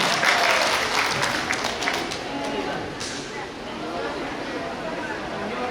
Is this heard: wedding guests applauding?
yes